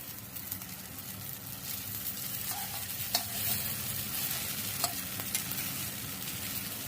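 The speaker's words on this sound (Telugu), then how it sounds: "హైలో పెట్టుకొని ఇట్లా మంచిగా ఫ్రై చేసేసుకోవాలి" Egg rice stir-fried on high heat in a pan, a steady soft sizzle under repeated scraping and tapping of a spatula, with a few sharper metallic knocks, moderately quiet and close, no speech.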